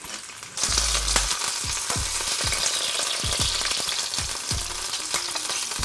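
Ahi tuna sizzling steadily in hot olive oil in a pan, with a loud continuous crackle and hiss punctuated by repeated clicks and taps from flipping, no talking.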